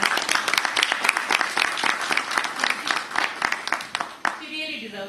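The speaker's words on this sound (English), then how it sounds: "She really deserves this big hand of applause." Conference audience giving a round of applause: dense, sustained clapping from a crowd, steady for about four seconds before ending abruptly into a quieter tail.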